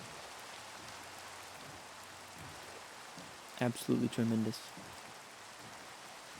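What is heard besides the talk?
rain in a video game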